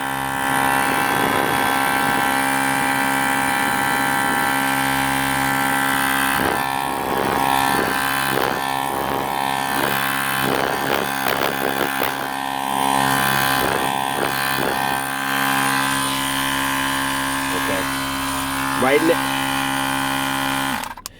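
A small electric motor of a Car Tech Engrepo mini electric tire inflator whirs steadily with a high buzzing drone, close and continuous, with brief pauses in pitch and a voice occasionally speaking over it.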